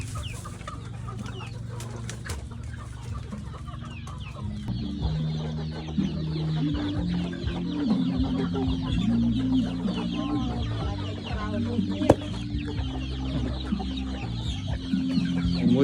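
Farmyard chickens raised by a family cluck continuously at close range, with busy overlapping calls, an occasional rooster crow and no talking.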